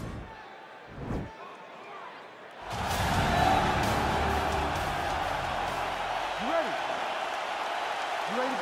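A packed arena crowd at a UFC event in a video game simulation swells into a loud, sustained roar of cheering and whoops. It starts after a short quiet stretch with a few thuds, and a commentator talks over it.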